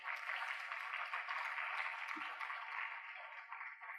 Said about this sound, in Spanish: les pido un aplauso para todos ustedes